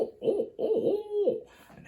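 A voice imitates an owl's hoot as a turkey locator call, giving a few rhythmic, throaty hoots close to the listener, the last one drawn out longer before trailing off.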